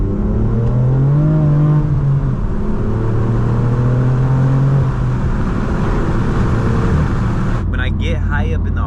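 A manual BMW M4 F82 in Sport Plus mode, its exhaust droning loud and close as revs rise and fall through gears, with a sharp crackle near the end and a driver talking over the engine.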